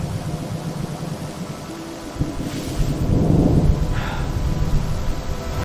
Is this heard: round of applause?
no